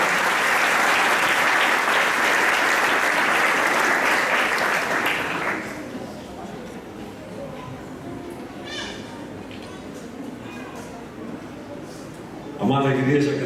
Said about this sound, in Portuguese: pastor Magno da igreja Batista Ebenezer, uma salva de palmas para ele.